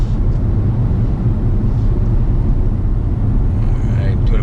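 A Chevrolet C7 Corvette cruising at about 50 mph gives a steady, loud low-frequency road and engine rumble that holds without a break from start to finish.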